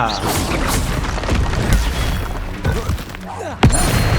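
The Stupefy spell goes off in Hogwarts Legacy as a loud boom and crash amid busy combat noise, ending with a sharp impact near the close, while a voice talks over it.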